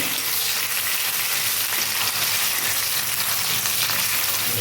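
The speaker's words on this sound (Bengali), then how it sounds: "পেঁয়াজটা একটু ব্রাউন করে ভেজে নেব" Onion frying in hot oil with black cumin and a bay leaf, a steady, close, loud sizzle that holds evenly throughout with no talking.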